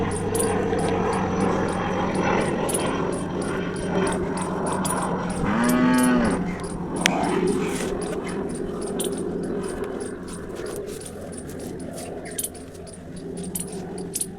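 A cow lows once in a drawn-out moo amid outdoor ambience with faint metallic jingling and a distant engine drone, mid-distance and clear.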